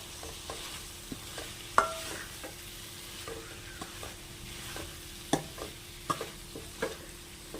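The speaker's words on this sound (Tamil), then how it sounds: "இப்போ இது கூடவே கட் பண்ணி வச்சுருக்கிற உருளைக்கிழங்கு ஆட் பண்ணிக்கலாம். நல்லா மிக்ஸ் பண்ணி விட்டுலாம்." Cut potatoes being stirred into frying masala in a pan for Tamil-style potato kuruma, with scattered scraping clicks and soft knocks over a steady low sizzle and hum. No one speaks.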